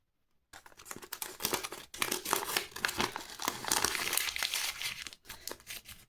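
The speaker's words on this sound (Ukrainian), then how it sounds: "давайте першим відкриємо ось цей пакетик." A paper packet crinkles and tears open up close, a steady run of crisp rustling and crunching for several seconds with no talking.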